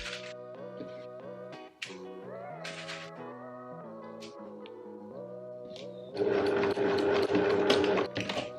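A sewing machine stitches fused dress facings together in short bursts, its whirring motor starting and stopping between pauses before a longer, louder run near the end, with no speech.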